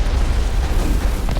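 A rocket or grenade blast in the Mass Effect video game, a loud, sustained booming rumble that fills the whole moment with heavy low-end roar, no talking over it.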